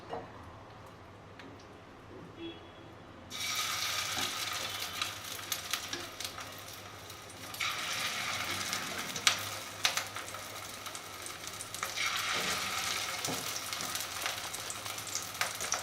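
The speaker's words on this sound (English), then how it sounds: "I have heated the oil. Now I'll be frying the prawn balls." Prawn balls sizzle in hot oil, the crackling fizz swelling louder in waves as more pieces drop in, with small ticks and pops throughout.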